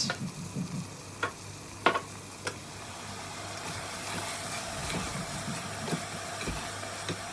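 Spices are stirred into beans in a pot for a Turkish sucuk bean dish cooked in a pressure cooker, with a soft steady scraping and sizzling and a few sharp clinks of the spoon against the pot, close by.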